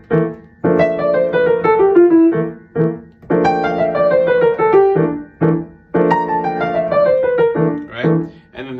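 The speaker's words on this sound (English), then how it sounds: "we run down the scale starting on the 1st degree, 3rd degree, 5th degree, and 7th degree" A melodic instrument plays a C bebop scale exercise, running down from the 1st, 3rd, 5th and 7th degrees in three sustained descending phrases of legato notes, close and clear with no talking.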